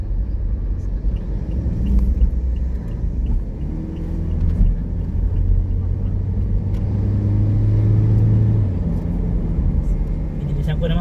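Toyota Innova driving along a curving road, a steady low engine and road rumble filling the interior throughout, with a brief rise in engine note partway through; voices talk over it.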